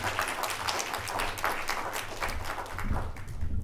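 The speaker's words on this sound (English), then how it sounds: "So let's give him a round of applause." Audience applause for a panel moderator at an open banking conference, a steady moderate-sized round of clapping in a large, sparsely filled room, with no talk over it.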